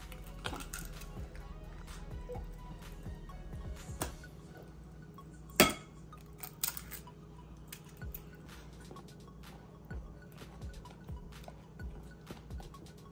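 Cake mix is stirred with a plastic knife in a bowl, giving soft irregular scraping and light tapping clicks, close by, with one sharper knock partway through and faint talk at times.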